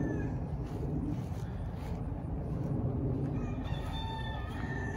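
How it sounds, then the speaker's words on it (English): Roosters crow back and forth on a food forest aquaponics homestead, a few distant calls rising over a steady outdoor background hum, with faint clucking and other birds in the mix. "Roosters are crowing back and forth at each other."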